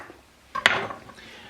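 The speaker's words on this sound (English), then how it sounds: "So I'm just going to go ahead and cut these into little bite-sized cubes." A single sharp knife chop into tofu on a cutting board, a brief crisp clack with a short ringing tail, close and isolated in a quiet kitchen.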